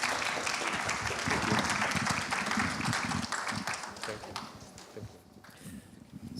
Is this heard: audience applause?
yes